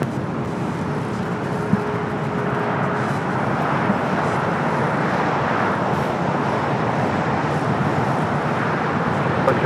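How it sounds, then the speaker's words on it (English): A United Boeing 787 Dreamliner rolls down runway 25 Right at Los Angeles International Airport, a continuous broad engine roar held at a steady level from start to finish. "we do have a United Dreamliner now rolling down at 25 right"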